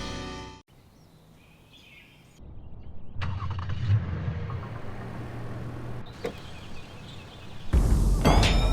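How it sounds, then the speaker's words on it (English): A Toyota car engine starts remotely outdoors, a brief crank followed by a steady low idle, with faint birdsong in the background and a louder burst near the end. "Did you start the car?"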